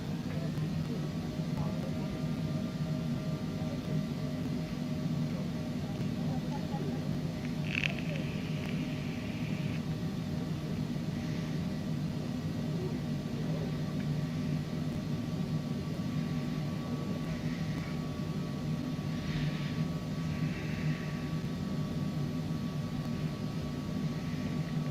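Airliner taxiing toward the runway in a flight simulator departing Miami, a steady engine drone and hum throughout with a few faint brief chirps over it, no talk.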